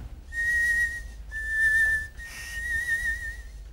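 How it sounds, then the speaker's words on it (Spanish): A person whistles a steady high tone in three sustained phrases separated by short breaths, close and fairly quiet with no talking. "Yo silbo así"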